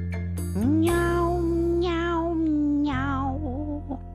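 A voice imitates a cat meowing in a long, drawn-out sung tone with a rising start, holding steady and wavering before a second shorter meow, loud and close with no other sound.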